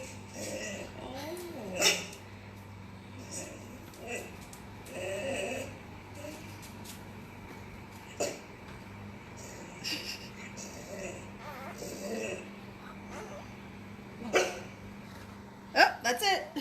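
A Basenji dog yodels and whines in short, warbling vocal bursts scattered through the clip, heard under nearby conversation in a live breed show.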